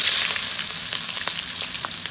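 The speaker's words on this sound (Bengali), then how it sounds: "এখন জিরা ফোড়ন দিয়ে দেবো।" Cumin seeds tempering in hot oil crackle and sizzle loudly and up close, a steady frying hiss broken by scattered sharp pops.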